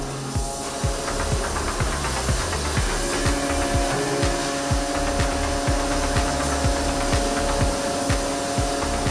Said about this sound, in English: Ray's Engineering developed a shuttle forging press machine that slides the forging die sets from 3 directions to perform the first, second, and third forgings